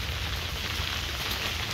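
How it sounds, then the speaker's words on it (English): Freezing rain hits the outside of an insulated ice fishing shelter on a river during a Minnesota January, a steady dense patter with no voices over it. "It's literally just raining out there."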